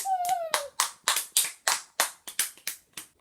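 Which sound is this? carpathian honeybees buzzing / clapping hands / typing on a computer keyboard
clapping hands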